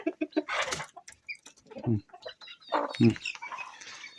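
Chickens cluck and chatter close by, with short bursty calls and a rooster's sounds mixed in, irregular and lively.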